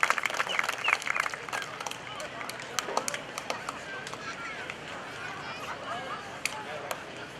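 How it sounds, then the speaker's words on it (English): An airshow crowd at NAS Oceana applauds the Douglas A-4 Skyhawk, scattered claps dense at first and then thinning into sparse individual claps, with a voice talking over them. "would you give a nice round of applause to Steve Kirik and the Douglas A-4 Skyhawk"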